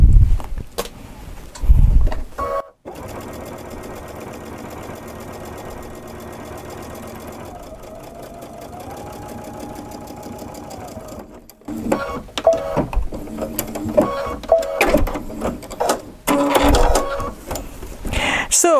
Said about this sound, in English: Especially on thick materials, I like to sew towards the folded edge so everything comes out really nice.